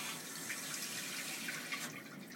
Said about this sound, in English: if you stand up, it's automatically flushed